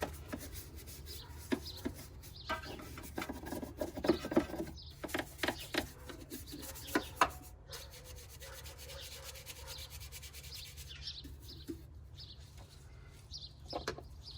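Detailing brushes scrub the interior of a 1980s FC RX7 Turbo II, giving close, uneven rubbing and scratching strokes in bursts over a low steady hum, busier early and calmer later.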